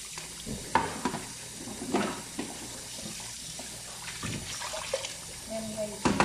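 Fruit and vegetables are rinsed and rubbed by hand under a running kitchen tap, with splashing and handling noises over steady water and a person talking at times.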